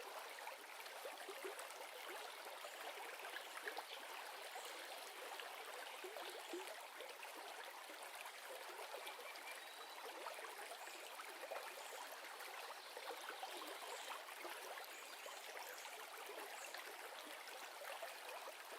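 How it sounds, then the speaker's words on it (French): Shallow stream water running and trickling between stones, a soft continuous gurgling wash that stays even and quiet throughout, with no voices. "le doux son de l'eau qui serpente entre les pierres et suit son cours"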